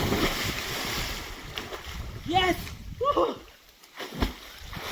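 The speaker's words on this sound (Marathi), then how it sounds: "मग शेवटची उडी त्याने मारलेली आहे" Someone jumps into a water-filled well, producing a couple of splashy, churning water bursts outdoors, with voices audible in the background.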